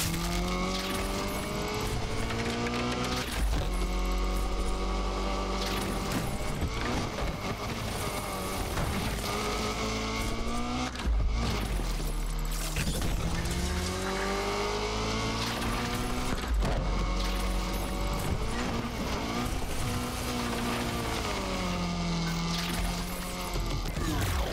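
A 2019 Lamborghini Aventador SVJ Roadster driven in Need for Speed Unbound, its engine revving loudly and continuously with repeated rising and falling gear-change sweeps, close and steady throughout.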